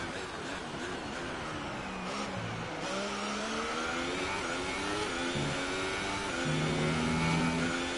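An F1 race car engine at high speed in the game F1 2018, a loud continuous high-pitched whine that rises steadily through gear changes, heard alone.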